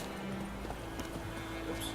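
Hoofbeats of the horse Roach in The Witcher 3 clip-clop faintly and evenly under a low, steady game background.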